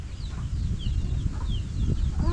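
A hen clucks low and steadily while leading her chicks, whose thin, high peeping chirps repeat over the clucking. Both are close and continuous outdoors.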